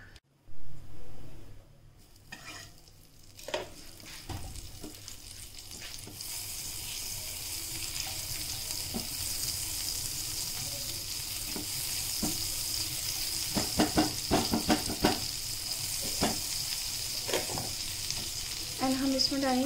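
Onions fry for pav bhaji, sizzling and crackling steadily in hot oil, with stirring scrapes and clinks from a utensil against the pan.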